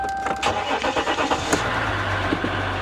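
A 2018 1500 Laramie truck engine cranks with a quick rhythmic churn, catches, and settles into a steady low idle, close and moderately loud with no talking.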